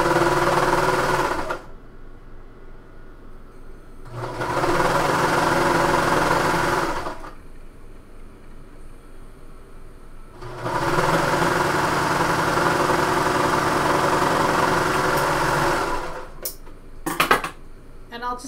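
A sewing machine runs in three bursts of rapid stitching on a bomber jacket sleeve, separated by pauses with faint background sound, ending with a few clicks.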